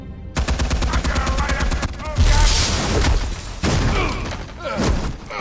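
Gunfire in the Batman Telltale Series video game: sustained, dense rapid shots and heavy booms fill the whole stretch, loud and continuous, with thuds layered over the barrage.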